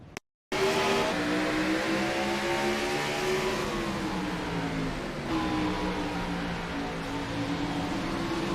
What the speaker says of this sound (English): Scott Kalal gives him a little bump here. Kalal trying to avoid it, just turns up on the track and collects David Duke